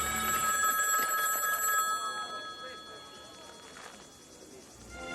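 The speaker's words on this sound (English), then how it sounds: "the legend of the ringing phone would never end." An old telephone bell rings in a loud, tonal burst at the start, then fades into a quieter room tone with faint background voices.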